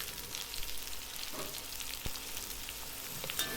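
Two large finely chopped onions fry in oil with spices for Saidapet-style vada curry, giving a soft, even crackling sizzle throughout the short stretch with no voices.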